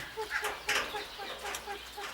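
Soft, scattered clucking from a few Serama chickens nearby, short chirpy calls coming in bursts over a quiet background.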